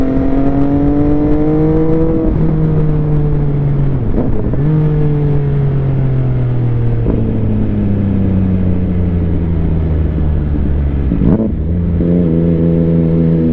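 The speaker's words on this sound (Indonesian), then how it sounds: "Untuk suara 3 silinder paling menang ya guys, menurut gua sih. Suaranya tuh udah kayak helikopter begitu" A three-cylinder motorcycle engine revs hard and close, its loud droning tone climbing steadily, dropping briefly at each gear change or throttle lift, then climbing again several times.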